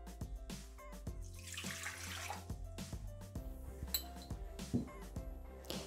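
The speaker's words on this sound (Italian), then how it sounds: "Iniziamo la ricetta mettendo all'interno del boccale l'acqua" Water poured into a Thermomix bowl at the start of a calzone dough, a running splash with clinks of glass and metal, close and fairly quiet, with no talk.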